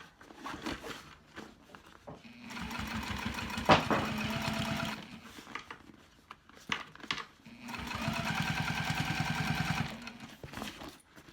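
Sewing machine stitching a thick bag seam, two runs of rapid, even mechanical chatter lasting several seconds each, close and fairly loud, separated by quiet handling noises.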